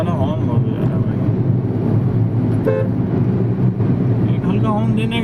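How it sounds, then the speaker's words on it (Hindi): A car horn toots in congested traffic among buses, with short honks over steady road and engine noise while someone talks throughout. "किया वाला हॉर्न बहुत हो जा रहा है भाई।"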